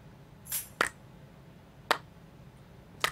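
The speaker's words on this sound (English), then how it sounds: "There's a little tambourine hit" Tambourine hits in an electronic track: a few short, bright, jingly strikes spaced irregularly, crisp and dry against near silence.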